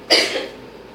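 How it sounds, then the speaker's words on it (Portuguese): A single sharp cough from a small child at home, bursting out loud and close, then trailing off quickly into quiet room tone. "Dá uma tossida"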